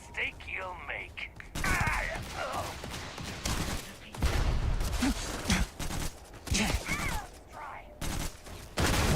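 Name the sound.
grenade explosions and gunfire in the video game Starfield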